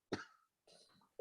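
A person coughs in a short burst at the start, followed by a quieter rough throat sound and a final sharp cough, fairly close and with no talking.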